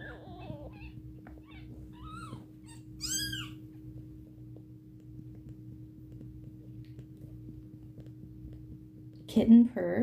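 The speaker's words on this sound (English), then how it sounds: "Kitten purrs are honestly the best." A kitten purrs close up in a steady low rumble throughout, with a few high mews from other kittens and a short rustle at the end.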